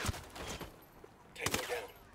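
Gunfire in Ghost Recon Wildlands: a sharp shot at the start, then a louder cluster of bursts a second later, mixed with game effects and radio-style voice chatter.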